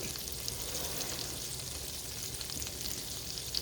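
French toast sizzling and frying in a hot skillet, a steady close crackle with fine spattering throughout, no talking.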